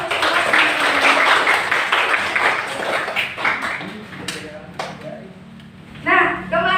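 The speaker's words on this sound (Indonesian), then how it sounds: "tepuk tangan untuk semua" Classmates in a classroom clap together for a few seconds, fading out as scattered claps and voices follow, with a voice audible near the end.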